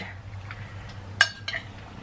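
Marinade being stirred in a pot, one sharp metal clink of a utensil against the pot followed by a softer clatter, close and brief over a faint low hum.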